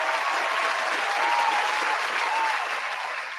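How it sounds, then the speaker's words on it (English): Dense, steady applause from an audience fills the whole stretch, continuous and fairly loud, easing slightly at the end. "give her a round of applause"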